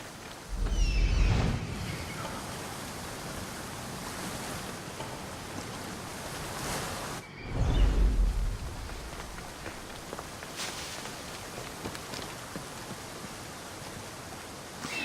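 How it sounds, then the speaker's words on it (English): A waterfall in Assassin's Creed Odyssey rushes as a broad, constant roar of falling water, with two heavier low surges like splashes standing out over the steady wash. "This is the waterfall."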